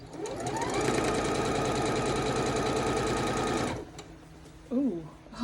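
A sewing machine stitches a quilt of Lori Holt Mercantile Quilt Seeds blocks, its motor whirring steadily and close for about four seconds before stopping, followed by a short burst of voice.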